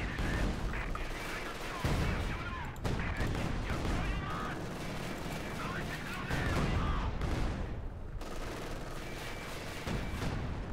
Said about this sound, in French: On va balancer un petit coup d'artillerie,